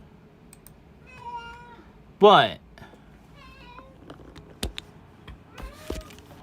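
A house cat meows several times in a rising, drawn-out way, close and fairly loud, between a sharp clatter and a few clicks, with someone speaking briefly.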